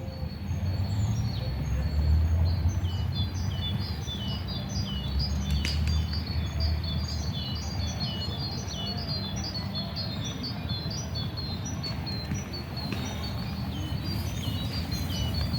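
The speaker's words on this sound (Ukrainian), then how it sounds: "Пташки співають." Several small birds chirp and sing in quick repeated phrases on a morning, against a steady low rumble of outdoor background noise, with no pauses throughout.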